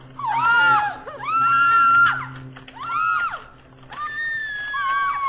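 Caged fairies in a video game let out piercing, tonal screams, four long warbling bursts one after another, loud and close with brief pauses between.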